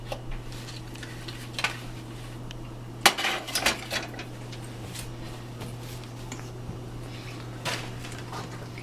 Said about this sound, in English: We'll put our oven glove on to take off our plate here.